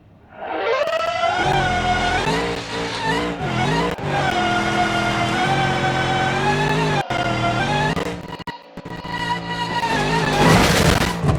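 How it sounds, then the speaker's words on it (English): A custom engine sound from a car in BeamNG.drive races down a road, revving loudly and climbing through the gears, with brief drops between shifts and a harsh surge near the end. "This has a custom sound for it too, so let's just race down this road for a second."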